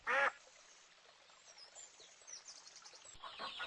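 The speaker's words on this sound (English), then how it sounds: "Here is a duck." A duck gives a short, clear quack burst near the start, followed by quiet background with faint chirps and rustling toward the end.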